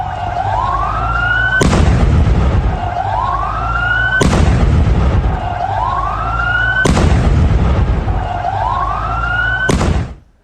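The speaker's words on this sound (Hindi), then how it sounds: "जोरदार विस्फोट, धमाकों की गूंज सबने सुनी" Explosions in news footage from Syria come as four loud, booming blasts, each preceded by a rising whistle-like tone, repeating at regular intervals before cutting off abruptly.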